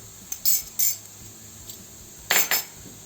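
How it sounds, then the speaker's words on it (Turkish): A metal utensil clinks against a pan a few times while stirring fried potatoes seasoned with red pepper powder and turmeric, four short scraping taps, close and fairly quiet, no talking. "Hepsini şöyle bir karıştıralım."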